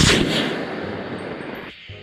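A 3D printed rocket launches and strikes a wooden target, giving one loud, close boom at the start that decays into a long rumbling roar before cutting off sharply.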